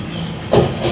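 Pad thai noodles hit a hot pan at a food park stall with fish sauce, hot sauce and a little oil, giving a steamy, hissing sizzle that jumps louder midway through the short burst.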